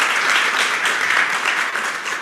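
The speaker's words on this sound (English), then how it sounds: "let's give these guys a round of applause" Dense, even applause from a conference audience at a health forum panel on AI diagnostics, a full steady roar of clapping with no talk over it.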